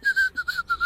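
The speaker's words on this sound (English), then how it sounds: "You can hear me whistling." A person whistles a short, clear tune of a few quick notes near the church and graveyard of St Mary's in Mirfield, close and fairly soft, with no talking.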